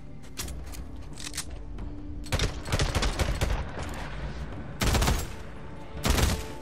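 Gunfire rings out in Days Gone: several sharp bursts of shots come in clusters, loud and close, separated by brief quieter gaps.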